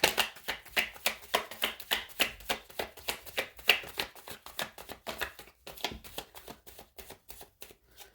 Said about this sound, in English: Put up with me shuffling, guys, because nothing is premeditated here.